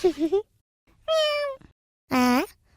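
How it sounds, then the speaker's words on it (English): A cartoon cat lets out three meows, a short wavering one followed by two longer, clear, high-pitched calls separated by pauses, close and loud with no other sound around them. "Hey, Kitty"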